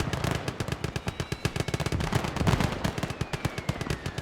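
Rapid bursts of machine-gun fire and rifle shots crackle almost without pause in the Gates of Hell WWII strategy game during a hardcore US conquest battle, loud and dense throughout.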